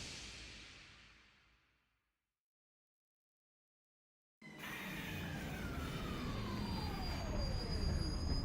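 Train noise in Master Detective Archives Rain Code: a hiss fades out into silence, then a loud steady rumble of rolling rail cars returns with a long squealing tone sliding downward.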